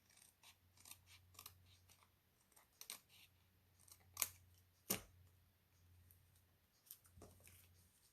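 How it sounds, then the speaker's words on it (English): Scissors snip a few times along the edge of glitter paper for card making, close by and quiet, with soft sharp cuts spaced irregularly. "I have just a hair of glitter paper showing on the edge here. I'll give that a little"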